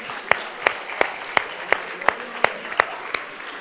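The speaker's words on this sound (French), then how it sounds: "on peut les applaudir bien fort" Sharp, evenly spaced hand claps, roughly three per second, ring out over a faint crowd murmur at a French youth event, sounding close and rhythmic rather than like a full ovation.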